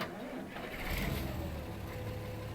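A 1970s Case 1570 Agri King tractor engine starts up in Farming Simulator 17, a steady mid-pitched rumble that builds and runs on, loud and close, with speech partly over it.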